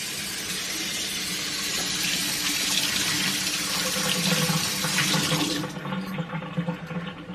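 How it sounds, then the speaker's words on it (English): A dishcloth rinsed under a running sink tap, a steady loud rush of water that continues for several seconds before easing into splashy, uneven trickling as the flow is interrupted. "And I can wash it off at the sink."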